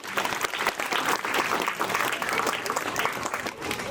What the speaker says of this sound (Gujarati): તો એમના માટે એક તાળી થઈ જાય.